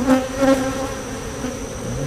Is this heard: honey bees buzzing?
yes